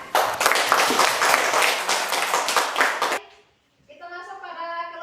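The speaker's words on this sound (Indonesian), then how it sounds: "Berikan aplaus yang meriah untuk kelompok ikan." Clapping for the fish group in a classroom fills the first three seconds with dense, lively applause, then breaks off into a brief silence before a tonal sound follows.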